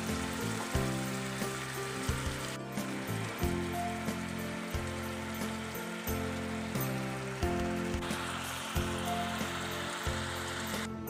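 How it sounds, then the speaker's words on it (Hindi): Grated bottle gourd with sugar frying in desi ghee gives a steady, close sizzling hiss that runs the whole time beneath a background of tonal music. "इसको मैं अच्छी तरह से देसी घी में भून लूंगा।"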